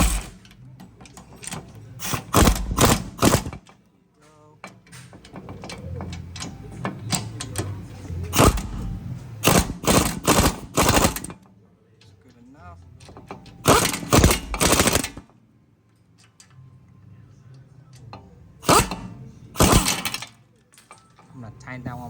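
Wheel hub bolts on a Toyota C-HR are driven tight with a power tool during a hub assembly replacement, several loud rattling bursts separated by pauses, close by, with someone talking in between.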